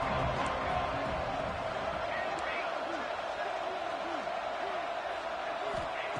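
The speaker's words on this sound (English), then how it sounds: "Third down and the crowd really getting into it." A football stadium crowd roars steadily on a third-down play, a dense, sustained wall of cheering that stays loud and even throughout with no break.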